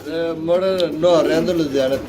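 Pigeons coo close by in a pet market, soft rolling calls that waver and repeat over a couple of seconds, loud and unaccompanied by talk.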